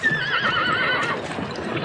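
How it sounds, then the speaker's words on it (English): A horse whinnies loudly and close, a long wavering neigh carried by a river dragon in a folk tale, with steady background noise throughout and no talk. "It took Tripitaka's horse in its long white teeth and it began to go down under the water"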